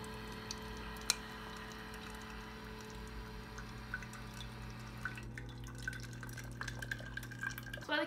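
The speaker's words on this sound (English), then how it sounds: "While the Keurig's filling up" A Keurig coffee maker runs steadily while dispensing hot water, giving a continuous close hum and trickle with small drips and one sharp click.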